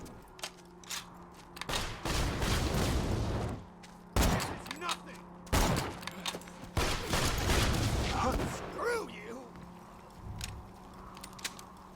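Torque gun fire from a Marauder enemy in Borderlands 2, several heavy bursts of shots with thudding blasts, separated by short gaps, loud and close with game ambience between.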